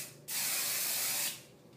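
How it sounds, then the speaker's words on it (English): A single steady hiss of hairspray misted onto a styled beard and moustache lasts about a second, close and clear, with quiet room tone before and after. "A little, just a touch more spray."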